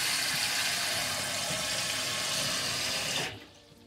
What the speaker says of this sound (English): Let's check the sink over here.